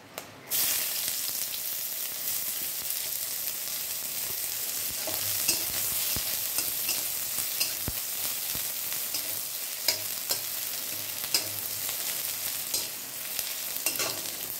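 Chopped onion sizzles steadily in hot oil with dried chilli and black cumin, a constant bright frying hiss with scattered crackles and occasional spoon scrapes against the pan, close and fairly loud.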